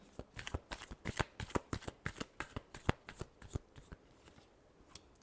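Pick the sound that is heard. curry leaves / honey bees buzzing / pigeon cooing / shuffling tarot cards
shuffling tarot cards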